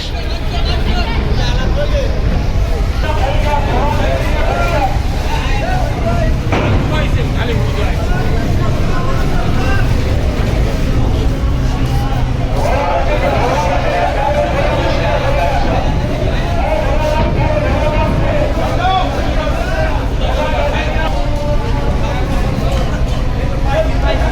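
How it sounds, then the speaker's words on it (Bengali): The passenger launch MV Farhan pulls away from Barishal ghat, its engine a steady low drone under a constant wash of crowd babble and people talking on the busy riverside. "বরিশাল ঘাট থেকে যাত্রী নামিয়ে চলে যাচ্ছে এমবি ফারহান সাদ ভায়া লঞ্চটি চলে যাচ্ছে বরিশাল ঘাট থেকে"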